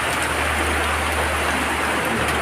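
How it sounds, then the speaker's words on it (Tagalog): Heavy rain pours steadily and loudly, a dense continuous wash of drops hitting surfaces close by with no talk over it. "Lumakas yung ulan."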